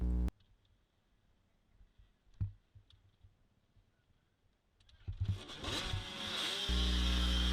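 Motocross bikes at a dead engine start in a 29-rider GP race, clicks and scattered engine noises at first, then a loud surge of many engines firing and revving together at close range.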